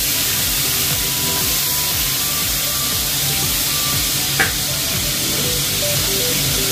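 Sliced onions hitting hot oil for beef afritada, a loud, dense, continuous sizzle close to the pan with one brief sharp crackle partway through, no voices.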